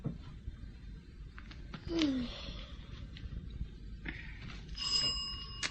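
A doorbell in a radio drama sounds as a short ringing burst near the end, clear over a faint low background hum with no talk.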